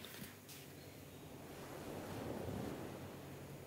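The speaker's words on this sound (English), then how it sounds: "The sound of the waves really catches the spirit of our city." Ocean waves wash onto a Barcelona shore under a wind rush, swelling into one broad surge midway, steady and fairly distant, no voices.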